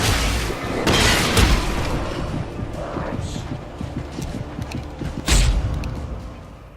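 Gunshots in the video game Alan Wake: several loud booming blasts, strongest near the start and again later, over a steady low rumble of in-game ambience.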